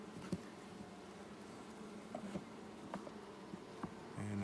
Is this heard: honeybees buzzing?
yes